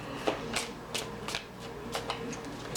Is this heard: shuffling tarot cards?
yes